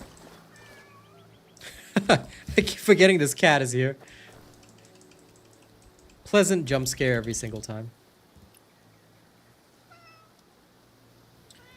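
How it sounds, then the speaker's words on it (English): A pet cat meows softly a few times near a computer, its brief calls mixed with keyboard typing, while a person talks over part of it. "I keep forgetting this cat is here."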